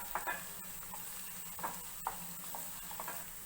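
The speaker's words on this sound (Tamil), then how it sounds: "பூண்டு எண்ணெயில் நல்லா வறுபட்டதுக்கப்புறம்" Chopped garlic fries in hot oil with a soft, steady sizzling, with a few faint clicks of stirring scattered through.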